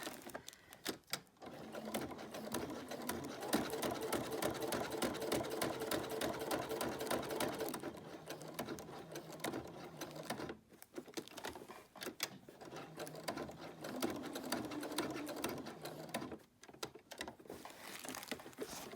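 A sewing machine stitches a fabric appliqué, running in a fast, even mechanical patter. The stitching comes in long runs, stopping briefly around the middle and again near the end, and is fairly quiet and close.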